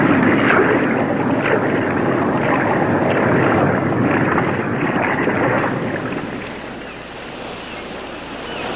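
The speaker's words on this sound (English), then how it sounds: "Suddenly, I was aware of a sound vibration. It could be an approaching ship." An approaching ship heard underwater as a steady, loud rumbling wash of vibration that fills the clip, easing slightly toward the end; no talking.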